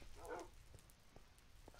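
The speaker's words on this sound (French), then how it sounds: "On entend mes chiens" Small dogs bark in a Minecraft survival game, giving a brief burst of yapping near the start followed by a few faint, scattered yips.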